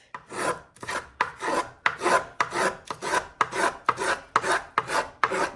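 A finger plane with a very aggressively set blade shaves wood in quick, regular strokes, about a dozen rasping cuts in steady rhythm, close and fairly loud with no talking.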